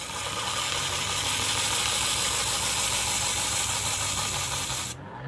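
An upgraded eight-coil pulse motor, a Bedini type, runs at low RPM: a dense, steady, loud whirring rasp with a fast, even pulsing rhythm underneath, continuous until it drops slightly near the end.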